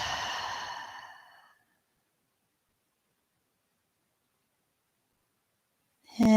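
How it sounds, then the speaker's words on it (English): A single deep, breathy exhale during a yoga class trails off into silence, followed by a brief sharp sound at the very end. "Deep breath out."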